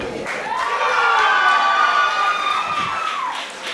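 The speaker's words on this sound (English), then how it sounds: "We're having a cheer off." Crowd at a wrestling event cheering and shouting loudly and steadily, with excited high voices, in a cheer-off that swells and holds before tailing off.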